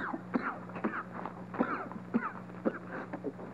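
A series of short, harsh coughs, roughly a dozen in quick irregular bursts, close and fairly loud over a faint low hum.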